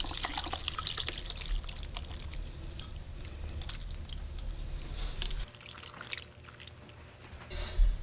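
Clear pork bone broth is poured over large vermicelli noodles with green onions, cilantro and culantro, giving a faint close liquid trickle and splash that tapers into quieter dribbles.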